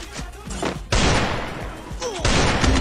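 Gunfire in a video game: sharp bursts of shots crack out in quick clusters, loud and close, with brief gaps between volleys.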